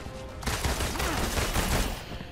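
Pistol fire in the action game Marvel's Avengers, a dense burst of shots with explosive impacts that starts abruptly and stays loud and busy for about two seconds.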